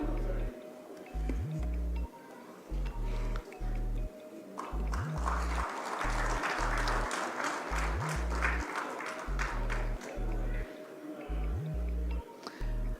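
An audience at a free solar panel distribution ceremony at CM House Sindh in Karachi breaks into a swell of clapping in the middle. The applause sits over a steady, rhythmic low thumping that runs throughout.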